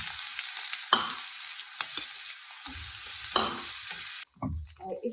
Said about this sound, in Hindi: वो थोड़ा सा हल्का सा उसको सौते करेंगे हम